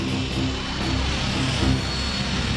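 A Me-262 jet fighter aircraft roars loudly and continuously with a deep, steady engine drone and little variation, heard alone with no talk over it.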